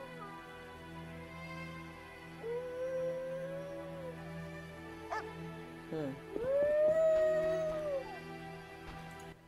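Dog in The Witcher Enhanced Edition video game, howling in long drawn-out wavering tones over a steady game music and ambience bed, with a couple of brief sniffs and whimpers in between.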